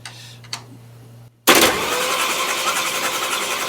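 A 1941 Chrysler flathead engine in a coupe cranks over after a faint click and a short silence, a loud, steady, rapid cranking churn close to the car that keeps going without catching.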